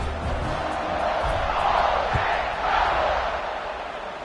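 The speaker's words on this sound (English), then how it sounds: "Do you think this crowd's going to get loud when their defense comes on the field?" A large football stadium crowd roars with a sustained, swelling cheer, loud and continuous, rising and falling in waves.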